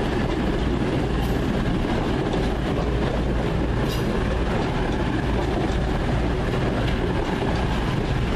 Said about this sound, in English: Piccadilly Bournemouth train just arriving.